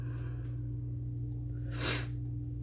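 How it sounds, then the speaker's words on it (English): A single sharp sniff or snort around the two-second mark, close up, over a steady low electrical hum. "I'm sorry to be sniffing on camera"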